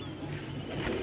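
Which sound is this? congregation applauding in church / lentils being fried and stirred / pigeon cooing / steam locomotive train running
pigeon cooing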